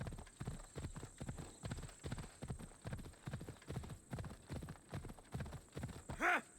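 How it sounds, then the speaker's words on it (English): A horse's hooves clip-clop along a path in the video game Assassin's Creed Odyssey, a steady, even rhythm close by, ending with a short whinny. "sometimes the horse decides to go fast on the paths and other times he decides to go slow on the paths"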